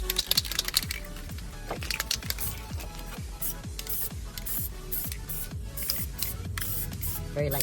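Aerosol spray paint hisses onto a Brembo brake caliper in fluorescent yellow in short bursts, close and fairly loud, mixed with rapid clicking and tapping from the can's nozzle and the part being handled.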